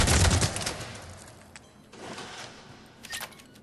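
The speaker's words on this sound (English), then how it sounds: "the weapon's spread increases dramatically, even at short range when firing from the hip" Avenger assault rifle in Mass Effect 3 fired from the hip, a loud burst of automatic gunfire followed by a few quieter scattered shots, with no voices.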